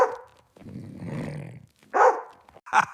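A dog growls in a low rumbling stretch, then lets out two sharp close barks after short pauses, with no talking.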